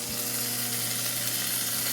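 Food fries in a pan with a loud, steady, close sizzle that holds unbroken throughout, with no talking over it.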